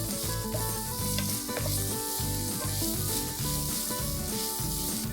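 Finely chopped onion frying in a pan with green chilli and capsicum: a steady loud sizzle with a regular scraping of stirring, close and with no talk.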